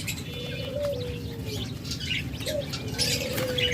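Caged pet birds such as budgerigars and lovebirds, a blue classic pair among them, chirp and call in a busy aviary, with steady overlapping tweets, short whistles and flutters at moderate loudness and no voices.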